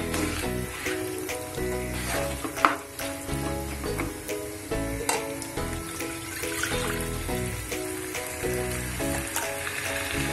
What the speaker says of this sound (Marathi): त्यामुळे आता मी याच्यात पाणी घालते.